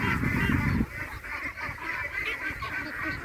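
Month-old yellow ducklings out on a grassy plot at a duck farm, a dense flock calling together in steady overlapping honks and quacks, close and continuous, with a louder low rumble for the first second.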